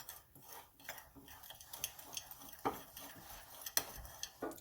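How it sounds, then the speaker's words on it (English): Sweetener being mixed into low carb peanut butter mud cake batter in a bowl, pressed free of lumps: quiet, irregular spoon scrapes and light clinks against the bowl, close and soft. "Press out any lumps and just mix it together."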